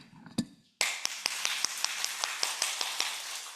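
In a Korean Sunday church service, the congregation claps in a steady, even rhythm of sharp beats, each clap crisp and fairly close, following a short pause after a single earlier clap.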